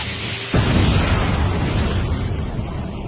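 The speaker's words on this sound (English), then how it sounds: "Without warning, there was a massive explosion." A sudden deep boom erupts and rolls on as a loud, sustained roar of rumbling blast noise.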